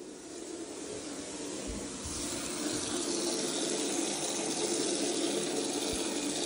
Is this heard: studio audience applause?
no